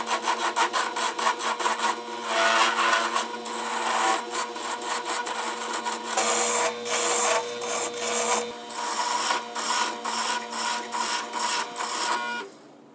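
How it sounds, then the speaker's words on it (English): A wood lathe turns and tapers a wooden mallet handle, giving a steady, dense scraping hiss with rhythmic pulsing cuts across the whole stretch, close and loud with no talk. "Once the basic handle shape was turned, I began tapering the handle and checked the grip in between until I achieved the perfect grip."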